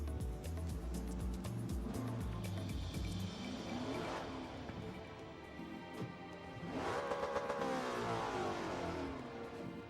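A Gran Turismo 7 race car bogs on a launch from a dig, engine droning low and struggling before revving up, close and loud and alone with no talk.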